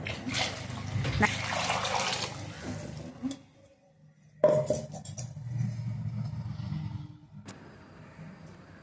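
Water poured into thick, bubbling masala for a village-style fish curry, a splashing, sizzling pour in the first seconds, then a brief lull before a steady simmering hiss resumes in the pot.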